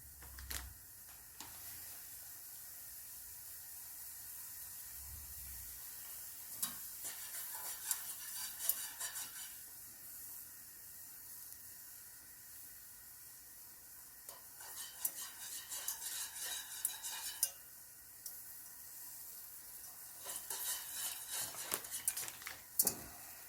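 A spoon stirs a food-storage meal in a pot on the stove, soft scraping strokes coming in bursts over a low steady simmering hiss, quiet and close, with no speech.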